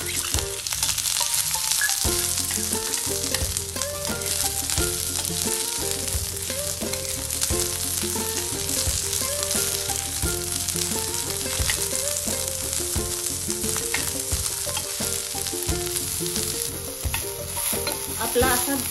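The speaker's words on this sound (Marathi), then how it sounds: "आता परत थोडं तेल घालून कांदा आपण छान बदामी कलरवर भाजून घेणार" Onion frying in oil in a pan until golden brown, a steady loud sizzle with repeated stirring scrapes running throughout, no voices.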